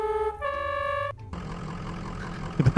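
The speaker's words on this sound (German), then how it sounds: "Da haben wir den Motorsound" A fire engine's motor runs low and steady after a brief tonal beep at the start, with rougher revving bursts near the end.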